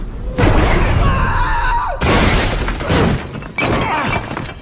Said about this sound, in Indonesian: Di sini Peter terkena ledakan dari bom milik Green Goblin.